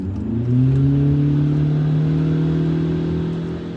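Toyota Camry hybrid revving with its muffler separated from the exhaust pipe, resonator and catalytic converter kept, a steady rising engine drone swelling after half a second and holding loud and near.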